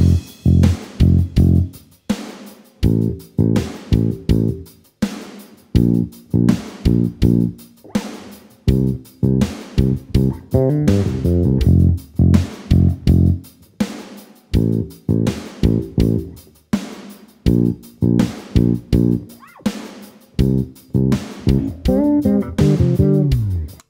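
Bass guitar playing a verse riff, a repeating pattern of short, punchy plucked notes with clear gaps between phrases, loud and close with no voices.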